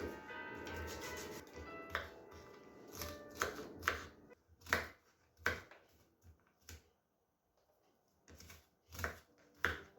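A knife chopping onion on a cutting board while cooking sarma-style dishes, a run of sharp, close cuts in uneven bursts, some quick and clustered, others spaced with short pauses, faint overall.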